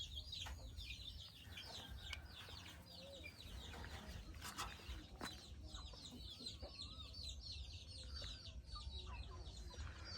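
Farmyard hens and roosters clucking and calling in a rural coop where paired chickens are laying, many overlapping short calls at moderate distance against a steady outdoor background, with no speech.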